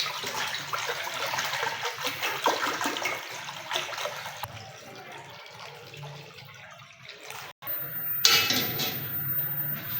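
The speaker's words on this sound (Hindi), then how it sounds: "सबसे पहले हम एक बर्तन में पानी ले लेंगे।" Water is poured from a tap into a cooking pot in a home kitchen at the start of making zarda sweet rice, a steady rushing splash that briefly cuts out near the end before resuming.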